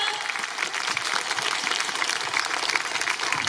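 A festival crowd at Vita Festival 2022 applauds loudly for a guest speaker, with many hands clapping in a thick, continuous patter that stays even throughout.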